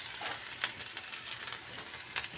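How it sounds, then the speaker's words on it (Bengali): Onions fry in a pan with a soft, continuous sizzle, broken by a few sharp clicks of a utensil against the pan. "পেঁয়াজটা আমার প্রায় মোটামুটি একটু কালারই এসে গেছে এটা মোটামুটি ভাজা হয়ে গেছে"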